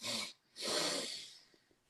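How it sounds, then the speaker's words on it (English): Breathing exercise: two fairly quick breaths drawn in, a short pause, then one longer breath out, close and clear with no talking. "2 fairly quick breaths in"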